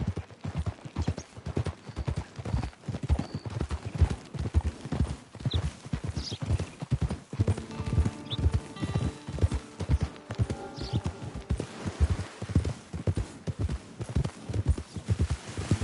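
Horse hooves clip-clopping at a steady walking rhythm in the video game Red Dead Online, close and continuous with faint ambient game sounds and music underneath.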